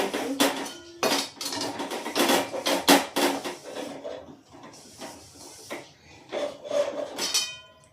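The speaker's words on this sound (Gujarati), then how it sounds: "કઢાઈ સાફ કરી" Metal utensil scraping and clattering against a kadai, an Indian wok, as it is cleaned out in a home kitchen after frying poha chevdo; busy irregular scrapes and knocks, close and fairly loud, with no talk.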